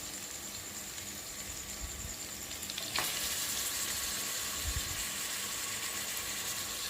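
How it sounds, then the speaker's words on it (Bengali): Mutton and potatoes sautéing in a pan for biryani give a steady, moderately quiet sizzle that grows a little louder midway, with faint stirring scrapes and no talking. "এগুলোকে আমি ভালো করে কষিয়ে নেব।"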